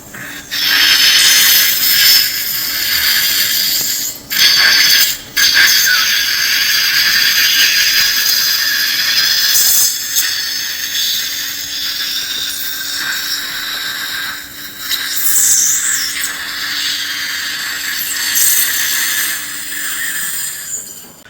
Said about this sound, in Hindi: सेकेंड इम्प्लांट हमने ड्रिल किया